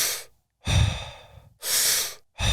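Deep rhythmic breathing from a breathwork session, with long audible inhales and exhales alternating with short pauses, close and clear with no talking.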